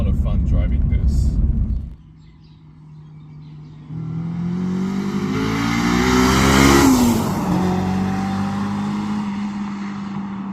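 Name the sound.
Honda S2000 car driving, engine revving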